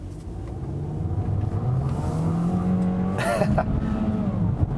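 A 2017 Volkswagen Jetta 1.4T front-wheel drive car's engine revs up and accelerates hard, rising in pitch and staying loud and steady throughout, with a brief higher whine near the middle.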